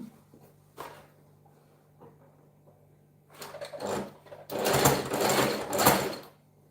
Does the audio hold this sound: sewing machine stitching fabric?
yes